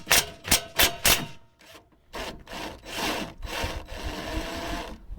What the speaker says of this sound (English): That's a normal sound for the impact driver.